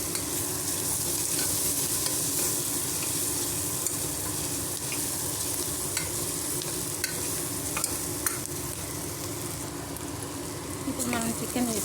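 Ginger garlic paste sizzles and fries in a pan while a spoon stirs it, giving a continuous crackling hiss with scraping strokes throughout and a voice faintly present.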